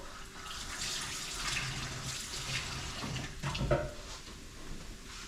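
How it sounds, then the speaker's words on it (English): Tap water running into a sink while hands are washed in a home kitchen, a soft, steady splashing that shifts slightly as the hands move under the stream. "Just gonna wash my hands a little bit."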